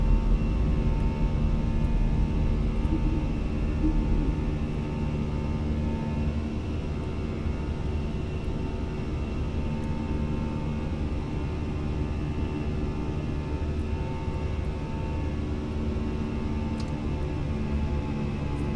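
A Fenix A320 climbs out in Microsoft Flight Simulator with a steady, loud engine roar and broad rumbling cabin noise. The landing gear retracting is not clearly separable from the sustained drone.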